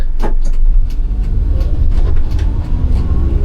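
A Daihatsu Mira kei car engine hums steadily close by while driving, with road rumble and a few brief higher whooshes over the low drone.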